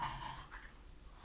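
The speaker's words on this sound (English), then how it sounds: "Sorry, that's my dog." A pet dog growls low and faint in a quiet room, a short soft rumble with a slight whimpering edge, heard alone.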